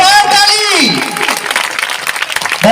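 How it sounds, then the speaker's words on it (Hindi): Loud audience applause fills a hall, dense clapping rising under a voice speaking over the crowd. "एक बार फिर से जोरदार ताली सदन के पीछे तक से"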